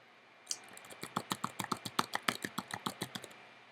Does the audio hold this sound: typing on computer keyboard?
yes